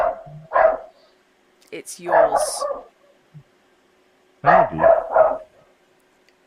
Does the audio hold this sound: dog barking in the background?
yes